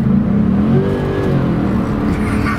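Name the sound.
Mercedes-Benz 560 SEC C126 coupe accelerating on kickdown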